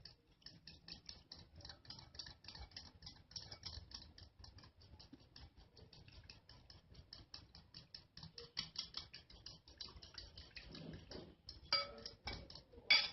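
A fork whisks yogurt in a bowl while making raita, a fast, even run of light ticking clinks against the bowl that continues throughout and grows slightly louder near the end.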